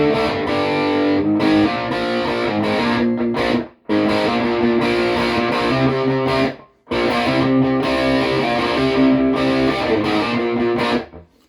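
Distorted electric guitar riff played dry with no echo, dense chords and sustained notes filling the whole range, loud and continuous in three long phrases separated by two brief cut-offs.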